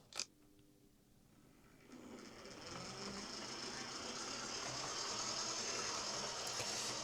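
A Lima OO-gauge model train, a Class 117 unit coupled to a Class 37, starts running after a brief click, its steady whirring motor hum building and holding smoothly and fairly close.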